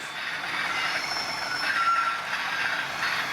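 Industrial trains roll steadily on a model railway, with a continuous bright metallic squeal of wheels over a soft rolling rumble. It is close and even for the whole stretch, with no voices.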